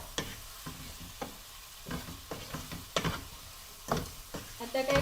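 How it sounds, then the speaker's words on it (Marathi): Masala sautéing over onions in a pan, giving a steady sizzle broken by repeated spatula scrapes and knocks against the pan, fairly close and moderately loud, with no talking. "आणि सगळं हे असं सॉटे करून घ्यायचं."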